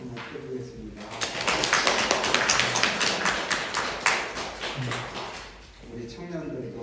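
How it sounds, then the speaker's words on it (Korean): Welcoming applause from a church congregation during a worship service, with a burst of clapping swelling up after the pastor's announcement, holding for a few seconds, then tapering off as a voice resumes. "우리 환영의 박수로 한번 해보겠습니다"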